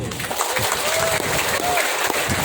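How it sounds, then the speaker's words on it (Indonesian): Steady applause from an audience fills the whole stretch, dense and even, with no pause. "Tepuk tangan dulu."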